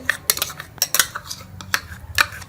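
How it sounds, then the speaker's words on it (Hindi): Spoon clinking and scraping against a pot while stirring bread kheer with burfi and cream, in irregular close metallic taps and scrapes with no talking. "तो इसको हम अच्छी तरह से मिक्स कर लेंगे"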